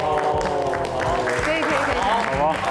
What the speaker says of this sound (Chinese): 自己给自己鼓掌